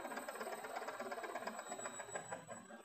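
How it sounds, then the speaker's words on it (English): A VFD-driven electric motor runs steadily at 200 RPM, giving a continuous mechanical whir with a faint rattling pulse and a high electronic whine, moderately loud and close, with no voices. "So you can see now motor is running in 200 RPM"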